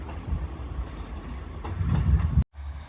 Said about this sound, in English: Departing now with his tail lights on is